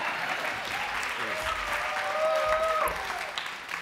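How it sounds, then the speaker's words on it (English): Audience applause fills a hall at a legacy award ceremony, steady and fairly loud throughout, with a brief whistle-like tone rising above it midway and no speech over it. "I was holding for applause"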